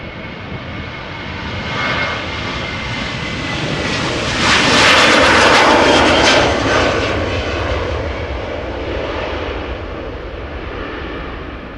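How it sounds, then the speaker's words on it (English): Air Europa Boeing 737 jet roaring past at Amsterdam Schiphol Airport, a loud, dense engine rush building to a peak midway and easing into a steady rumble as it moves away. "So Air Europa flying the 737 today instead of the Dreamliner."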